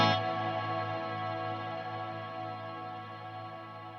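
A sustained ambient electric guitar chord rings out through a large, lush reverb with a high cut, decaying slowly and smoothly alone after a sharp attack.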